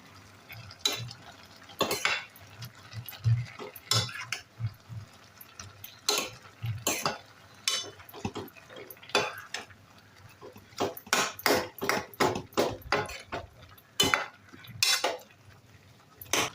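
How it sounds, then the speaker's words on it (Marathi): A utensil scrapes and clinks repeatedly against a pan while grated fresh coconut is stirred into colocasia leaf curry, giving irregular close, sharp knocks and scrapes with short pauses between them. "आता आपण याच्यामध्ये ना ओलं खोबरं घालूया पुन्हा एकदा मिक्स करून घेऊया"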